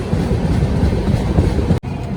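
The Saryu Yamuna Express train rumbles heavily and continuously nearby as it arrives at Ballia railway station, with low rolling wheel noise on the tracks, cutting off abruptly near the end.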